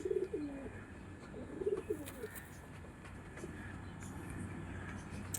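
Andhra pigeons of the Chatiyal Phulshira and Kalshira breeds coo softly in a home loft, with a couple of low coo phrases early on over a steady background hum.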